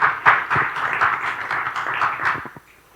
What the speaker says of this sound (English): I know, that deserves a clap, doesn't it?